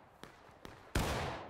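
Musket volleys in the Civil War game War of Rights: two sharp distant reports, then a loud close musket blast that rolls on with a sustained booming echo.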